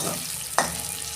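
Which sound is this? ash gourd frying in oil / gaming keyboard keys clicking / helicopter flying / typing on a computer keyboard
ash gourd frying in oil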